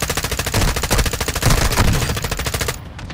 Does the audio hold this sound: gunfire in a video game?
yes